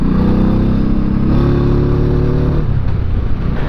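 A 1985 Honda Shadow motorcycle under restoration runs loud and close after starting, its engine chugging with a rough revving rise and a clattering, uneven idle.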